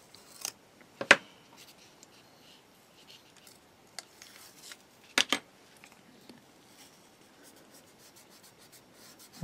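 Scissors trimming plastic parts to length while building a Takom 1/35 British Chieftain Mk 10 tank model kit; a few sharp, close snips stand out in a quiet room, with faint handling rustles between them.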